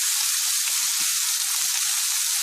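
Onions sizzling in hot olive oil in a pan, a steady loud broadband frying hiss throughout with a few faint low knocks of utensil or pan handling.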